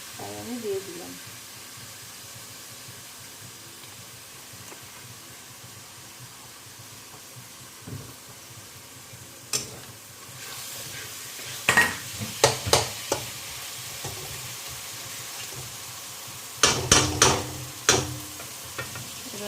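Chicken for rezala fries in oil with a soft, low sizzle, broken by bursts of louder clattering and scraping as it is stirred. A voice is heard briefly at the start.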